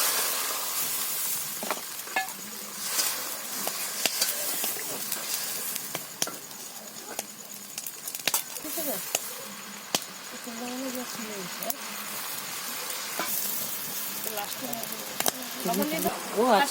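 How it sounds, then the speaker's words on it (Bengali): Water poured into a pan of fish curry cooking at a village home sets off a steady broadband sizzle and hiss that runs throughout at moderate level, with occasional clicks, while a person talks over it at times. "বন্ধুরা জল দিয়ে দিচ্ছি।"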